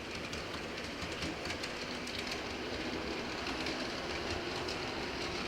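A model railroad freight train runs steadily along a layout, its continuous rolling rumble and rail clatter staying close and even, with faint high squeals and no voices.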